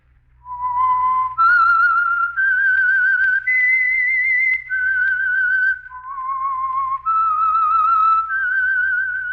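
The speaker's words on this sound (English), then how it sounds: "That whistle is your signal for the Signal Oil Program, The Whistler." A person whistles the Whistler theme tune on the Signal Oil Program, a clear solo melody of sustained notes that step up and down, close and loud with no talk.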